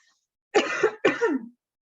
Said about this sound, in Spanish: vamos a toser fuerte con la musculatura apretada